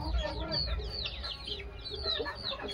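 Desi free-range chicks on a poultry farm, a flock peeping and cheeping in rapid overlapping high calls, with a few lower clucks from nearby hens, quiet and continuous.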